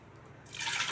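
Water poured into a pressure cooker holding soaked, washed chana dal and moong dal, a brief splashing rush that starts suddenly and fills the pot with a bright, close hiss.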